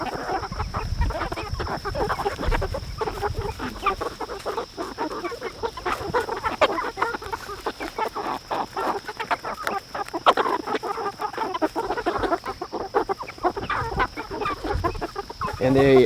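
Young egg-laying hens cluck and chatter close by in a steady stream, with a few louder squawks mixed in over a constant high-pitched background hum.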